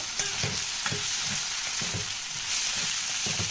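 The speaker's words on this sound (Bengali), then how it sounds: "চাল আর ডালটা আমি ভালো করে ভেজে নিলাম" Rice and lentils fry for khichuri with salt and turmeric, a steady close sizzle broken by regular scraping stirs of the spoon against the pan.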